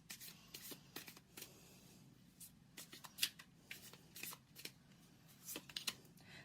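A deck of tarot cards is shuffled by hand close up, in quiet bursts of riffling and flicking with a few sharper snaps, and no talking.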